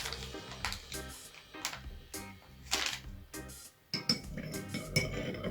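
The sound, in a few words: spoon stirring baking soda into a solution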